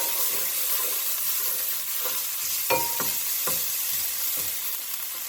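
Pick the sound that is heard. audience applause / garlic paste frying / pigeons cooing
garlic paste frying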